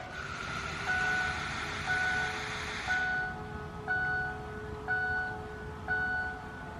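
Repeated one-second electronic chimes sound while the key is cycled on a 6.0 Powerstroke diesel after a fuel filter change, over a steady hum, with a brighter buzz that cuts off partway through.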